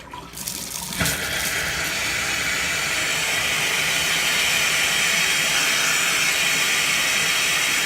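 Compressed air rushes through the water pipes and fixtures of a lakehouse being winterized, a loud continuous hissing, sputtering flow that surges in after a brief start and holds steady.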